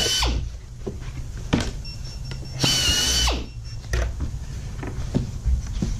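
A power drill bores holes through a 1984 Chevrolet El Camino interior door panel, loud close bursts of whining motor with short pauses and bit catches between them, no talking.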